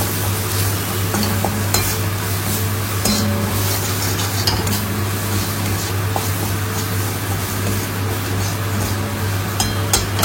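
Chopped onions sauté in a pan with salt, turmeric and cumin powder, a loud, close crackling sizzle with repeated scraping and stirring clacks of a spatula against the pan over a steady hum.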